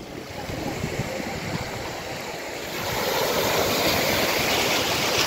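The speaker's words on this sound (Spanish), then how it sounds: "La mar, qué maravilla la mar" Sea waves break on the beach at Playa Norte in Gandía, a steady broad wash of surf that swells louder midway and stays close and continuous with no voices.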